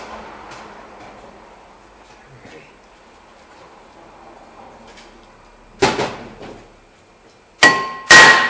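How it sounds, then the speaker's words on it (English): Hammer blows on a rusty brake rotor on a 2008 Nissan Altima: faint light taps, then a few sharp, loud metallic strikes near the end, close by and without speech. "let me grab a hammer and we're going to give that a couple of taps."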